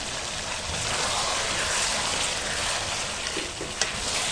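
Chicken, tinda and tomato masala fries in a pan with a steady, close sizzle and hiss and a few faint stirring clicks, with no talking.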